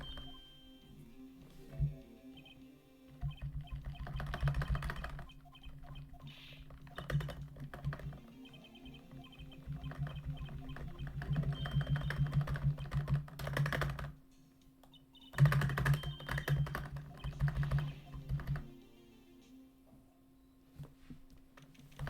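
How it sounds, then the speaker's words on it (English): Someone types on a computer keyboard in steady bursts of clicking keystrokes with short pauses, close and fairly quiet over a faint background hum, with no voices. "Do you like my keyboard ASMR?"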